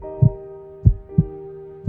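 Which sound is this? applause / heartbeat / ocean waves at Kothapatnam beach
heartbeat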